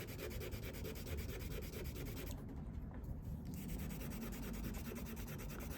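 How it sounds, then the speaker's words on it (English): Hand sanding of a 1955 Chevy dash trim piece with fine 3000-grit sandpaper, a close, continuous soft rubbing with quick back-and-forth strokes and a brief pause midway. "let's go back to some 3000 grit. See if we can rub that."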